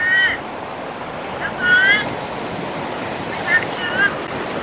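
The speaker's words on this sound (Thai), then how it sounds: "คลื่นลมแรงนะดูเขาซัดเข้าฝั่งเลย" Strong wind and waves surging onto a pine-lined beach at Mae Ramphueng on the Rayong coast in Thailand, a steady roar of surf under a voice talking throughout.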